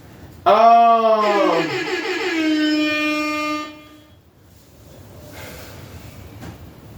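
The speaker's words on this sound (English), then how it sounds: "Air horns." A blaring air horn sound effect bursts out on a podcast, one rich, brassy blast with a sliding start that holds for about three seconds before cutting off into quiet room tone.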